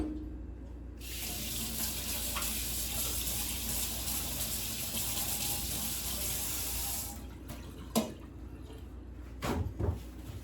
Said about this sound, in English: I'm gonna rinse my hands off for a second.